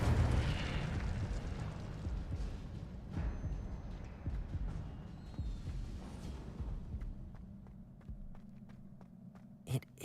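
Incendio fire spell cast in Hogwarts Legacy, a loud rushing burst of flame with rumbling low-end crackle that gradually fades, followed by a couple of sharp pops near the end.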